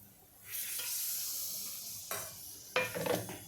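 Water hissing and sizzling on a hot tawa griddle after the gas is switched off, a soft steady hiss followed by a couple of sharper scraping, clattering sounds of the water being wiped off.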